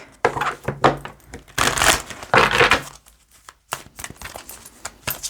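A deck of tarot cards is shuffled by hand in quick, uneven bursts of papery rustling and soft snapping, close and fairly loud, with no talking.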